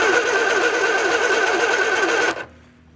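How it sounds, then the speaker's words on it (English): An Austin-Healey Sprite engine cranks over on the starter with the lights off, a steady rapid whirring churn for over two seconds before stopping abruptly, leaving near silence. "I'm going to turn off the light and then crank the engine over"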